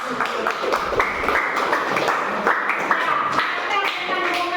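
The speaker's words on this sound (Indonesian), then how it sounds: "tepuk tangan buat" A room full of people clapping steadily, a dense patter of hands close by with some chatter mixed in.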